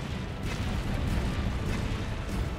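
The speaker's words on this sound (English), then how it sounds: "Fire cannon!" Cannon fire in the video game Monster Hunter World: a continuous loud, rumbling barrage of booms with heavy low end, sustained across the whole stretch without clear gaps.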